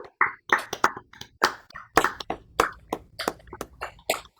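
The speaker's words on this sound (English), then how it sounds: "Let's give them all a big round of applause" Scattered hand claps from a small online audience joining a virtual Zoom gathering, a dozen or so separate sharp claps arriving unevenly rather than as a dense wash.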